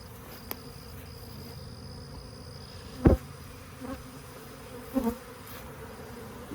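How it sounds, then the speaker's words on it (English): Bees buzz inside a box, a thin continuous hum at close range and fairly quiet, broken by a couple of soft knocks or thumps along the way. No one speaks. "Got a lot of bees in here."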